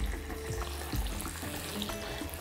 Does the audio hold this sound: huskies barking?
no